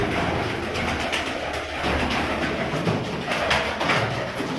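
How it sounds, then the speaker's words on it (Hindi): Pet pigeons kept by a breeder coo continuously in a dense flock, close and fairly loud, with a broad hiss of wings and background noise running throughout. "35 वाले कबूतर इतनी बड़ी तादाद में और असली अपने असल रंग में"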